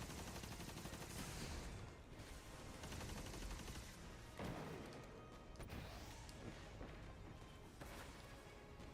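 Rapid video game gunfire rattles in dense, overlapping bursts, loud and close, with no talking.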